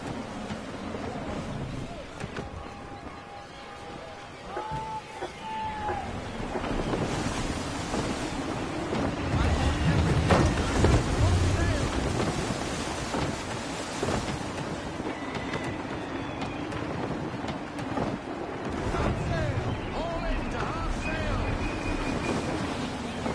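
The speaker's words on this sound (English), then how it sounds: "Gusty winds can be difficult to manage." Gusty wind and rushing water while sailing a ship in Assassin's Creed 3, a steady broad whoosh of wind and waves with creaking, swelling in loudness midway, under occasional voices.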